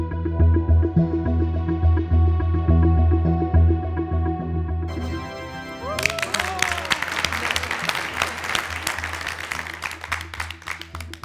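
Studio audience applause erupts partway through on a Turkish TV family game show, a dense burst of clapping that follows a sustained musical tone and carries steadily to the end.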